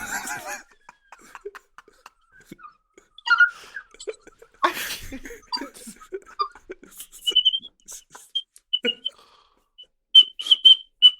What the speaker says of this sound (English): she's whistling through her teeth